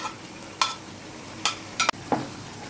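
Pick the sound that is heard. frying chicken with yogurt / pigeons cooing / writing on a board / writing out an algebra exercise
frying chicken with yogurt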